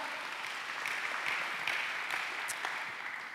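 Applause from a church congregation rises as a soft, steady patter of many hands, distant and fairly quiet, lasting a few seconds without any talking.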